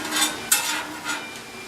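Carnitas tacos on a griddle give a soft sizzle, broken by a few scraping and stirring bursts and one sharp metallic tap.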